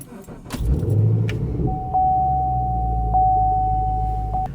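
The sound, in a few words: Chevrolet Camaro SS car engine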